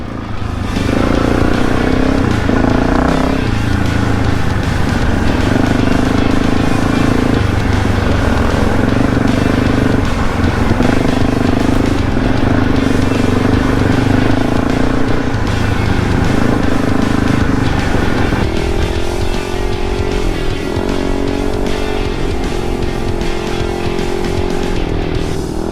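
A motorbike ridden on a track, its engine droning loud and continuous close by with shifting revs throughout, occasional wind and clatter, and faint voices in the background.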